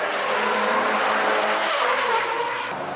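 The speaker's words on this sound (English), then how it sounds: "That was some fucking good drift." At a drift event in Japan, a car slides past with a loud, continuous tire squeal and engine roar, the screech holding steady for about three seconds before easing slightly.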